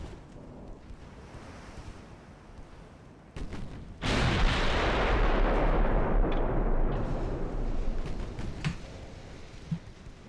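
Naval gunfire in the warship game Ultimate Admiral: Dreadnoughts, with an 1890s Italian fleet engaging a battleship: a heavy broadband boom hits hard, followed by a long rumbling roar under steady ocean and wind ambience, with a few sharper later impacts.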